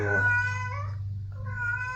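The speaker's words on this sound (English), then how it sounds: "I've got a very talkative young cat over here" A young cat meows twice up close, a drawn-out cry followed by a shorter one over a low steady hum.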